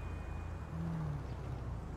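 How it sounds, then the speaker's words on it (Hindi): Toyota Fortuner engine in GTA V, a steady low rumble running throughout at moderate level, with a slight swell near the middle. "सुन रहे हो साउंड गाड़ी का?"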